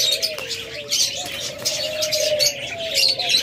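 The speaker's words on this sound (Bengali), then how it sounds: "এরপরে রয়েছে বেশ কিছু জাপানিজ বাজবিগার" Japanese budgerigars in a bird seller's cage, giving busy overlapping chirps and warbles close up, continuous throughout with a faint tonal hum underneath.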